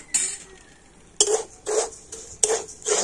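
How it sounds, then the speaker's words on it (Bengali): Rice being tossed and stirred in hot salt in a pan for puffed rice, heard as three short, loud bursts of gritty rattling and scraping separated by brief pauses. "আমি 1 হাতা চাল নিয়ে আর লবণের মধ্যে দিয়ে দিচ্ছি"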